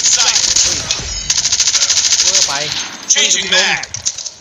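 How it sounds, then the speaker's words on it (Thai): The QXR submachine gun fires rapid automatic bursts in Call of Duty Mobile, loud and close, with brief gaps between volleys and other game sound effects around them. "ปืนมันนิ่งมากแต่ผมยิงไม่โดน"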